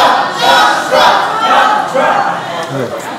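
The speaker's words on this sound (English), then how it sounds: "They're cheering for you." A town hall audience in a high school setting breaks into sustained cheering and shouting, a loud crowd roar that swells and holds for several seconds.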